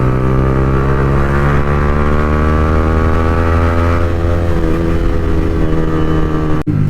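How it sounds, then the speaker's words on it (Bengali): Motorcycles fitted with full-system aftermarket exhausts riding on a road, a loud, close, continuous deep engine drone with rich rumbling tones that shift slightly as the bikes roll on. "4টে বাইকে ভাই ফুল সিস্টেম এক্সজস্ট।"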